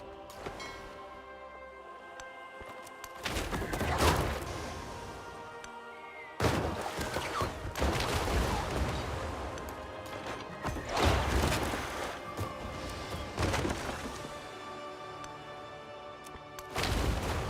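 Artillery fire in the Civilization VII strategy game, with several heavy booming bursts and crashes at irregular intervals over a musical background, moderately loud.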